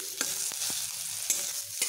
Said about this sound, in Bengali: এগুলো আমার হালকা ভাজা হতেই এখানে আমি সেদ্ধ করে রাখা আলুগুলোকে দিয়ে নিচ্ছি।